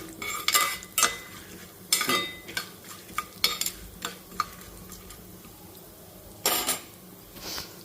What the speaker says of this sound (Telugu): పచ్చిమిర్చి ఎండుమిర్చి ఇంగువ అవన్నీ వేసుకోవాలన్నమాట సో చూడండి చక్కగా వేగుతున్నాయి